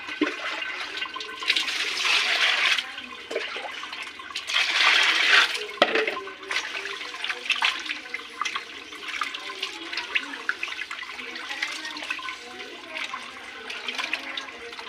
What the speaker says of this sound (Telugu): ఇప్పుడు మళ్ళీ దీంట్లో వాటర్ వేసి కడుగుతుంది